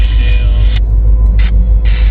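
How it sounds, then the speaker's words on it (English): A Jeep passes close by, a loud, steady low engine rumble with bursts of hiss, heard alone outdoors. "There's a Jeep."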